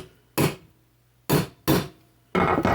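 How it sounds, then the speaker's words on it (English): A Barlow pocketknife is tapped against an anvil in four sharp metallic knocks, a single strike, a pause, then two close together and one more, each ringing briefly at close range with no talk. "So I'm going to set it on the anvil and I'm going to tap a little bit."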